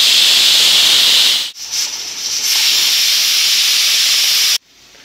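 A pressure cooker whistles while cooking khichdi: a loud, close, continuous steam hiss that dips briefly, surges back steadily for several seconds and then cuts off abruptly.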